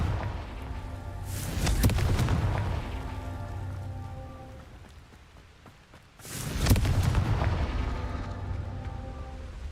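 Two Confringo spell explosions in Hogwarts Legacy, each a deep booming blast that swells into a crackling, hissing roar and gradually fades, several seconds apart, loud and close with no voices.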